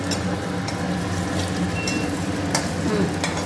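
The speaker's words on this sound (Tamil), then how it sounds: "பொரிஞ்சு எடுத்து பாருங்கள்." Lentil dumplings fry in hot oil with a steady, close, crackling sizzle that holds throughout, broken by small sharp pops.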